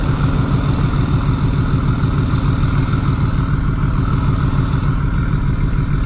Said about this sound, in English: Turbo diesel, yee yee.